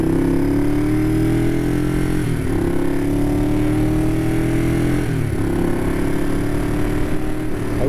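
A 1969 Honda CL350 Scrambler twin-cylinder motorcycle running steadily close by, a loud, even engine drone with slight dips in pitch as the throttle eases and returns.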